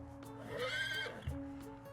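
A horse whinnies at moderate distance, a rising and falling neigh with a snort at the end, over steady background hum and faint hoof sounds.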